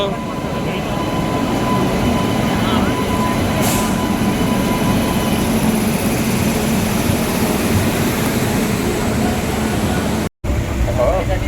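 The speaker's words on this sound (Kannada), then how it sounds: "ಟ್ರೈನ್ ಬಂತು." Rumbling train noise fills the scene as a Rajdhani Express arrives at the station, a steady mechanical roar of rolling railcars with a high squeal midway and a brief dropout near the end.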